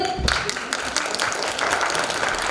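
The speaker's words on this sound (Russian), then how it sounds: "Это здорово! Аплодисменты!" Applause from an audience at an annual theatre awards ceremony for young actors, a dense steady clatter of many hands clapping that holds at an even level throughout.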